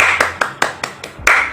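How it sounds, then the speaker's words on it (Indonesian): Seven sharp hand claps in a quick pattern, close and loud: five evenly spaced claps, then a pause and two final claps, with no voices. "ini namanya adalah tepuk 127. Jadi pola tepuknya seperti ini."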